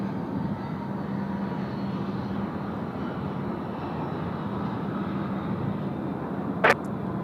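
American 72 airliner taking off from Sydney Airport, a broad steady jet engine roar heard from a distance and holding level throughout, with one brief sharp click near the end.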